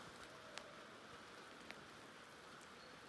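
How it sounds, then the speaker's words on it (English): Steady rain falls on a clear-cut forest area near a gravel yard, a continuous even hiss with a couple of sharp drip ticks, heard alone with no talking. "Yeah, it's raining."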